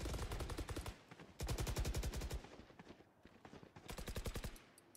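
Rapid automatic gunfire in the video game Valorant, fired in three sustained bursts of evenly spaced shots with short pauses between, loud and close, with no talking.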